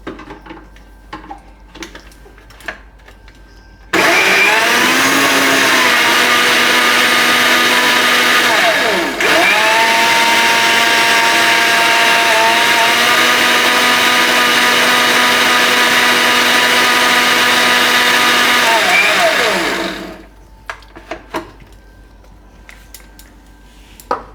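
A mixer grinder blends muskmelon with milk for homemade ice cream. A loud, steady motor whine runs for about sixteen seconds, dips briefly midway, then stops, with quiet kitchen sounds before and after.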